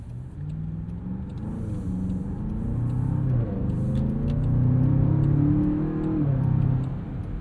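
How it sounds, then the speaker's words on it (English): Twin-turbo V8 of a 2026 Land Rover Defender Octa heard from inside the cabin on a commute, a steady low engine and exhaust drone that swells as it accelerates, with no talking. "Even in quiet mode, the exhaust valve will open occasionally, and you can hear some of that sweet,"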